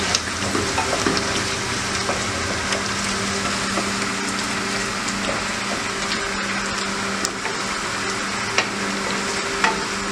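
Green chillies and onions fry in oil for a fish pickle, giving a steady close sizzle with occasional scraping stirs and light clicks of a spoon in the pan, with no talking.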